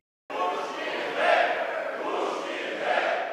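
Shouting and whistling from lawmakers in the Ukrainian parliament chamber on the first day of the new Rada, a loud, steady crowd roar of voices that swells in waves, with no single voice standing out.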